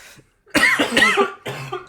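A few harsh, close coughs in a quick burst, then a short pause and one more cough, loud and raspy.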